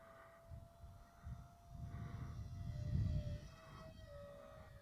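A Flybear FX9672 Darkstar EDF RC airplane throttling up in flight, its electric ducted fan whining as a steady thin tone while the rushing roar swells and fades at a moderate distance, heard alone.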